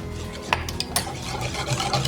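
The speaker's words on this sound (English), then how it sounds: "If you get lumps in your sauce, use a whisk just to combine everything a little bit better." Whisk stirring a creamy dipping sauce in a bowl to smooth out lumps, heard as a continuous close-up rubbing and scraping with a few light metallic taps against the bowl.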